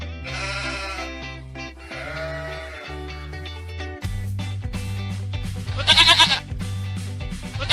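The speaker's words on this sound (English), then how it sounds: "Sheep." Farm sheep bleat loudly and repeatedly, several drawn-out, wavering calls one after another, close and clear with no talking.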